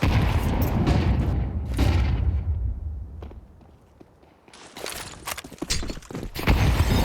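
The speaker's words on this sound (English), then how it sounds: "Well-timed nade." A grenade blast in Counter-Strike during a professional esports match on the Anubis map, a heavy boom up front and a fading rumble, followed by a burst of rapid gunfire and footsteps.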